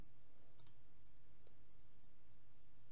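A few faint, sparse computer mouse clicks sound against a constant low hiss, quiet and isolated, with no talking.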